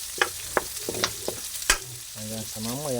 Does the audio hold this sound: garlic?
yes